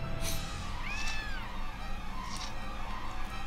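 A cat meows in the video game Gravity Daze, a rising then falling whine set against a steady, busy game soundscape of ambience and music, followed by fainter mewing sounds.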